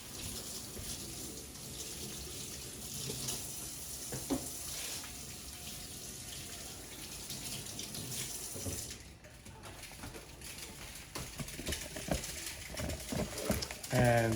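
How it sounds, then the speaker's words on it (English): Running tap water over hands at a kitchen sink, a steady close splashing hiss that dips briefly, then turns choppier with handling noises near the end. "So let me wash my hands now."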